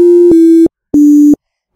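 LMMS BitInvader synthesizer plugin sounding a plain sine-like tone, loud and buzzy with overtones, in two short separate notes of about two-thirds of a second each, with a brief break between them.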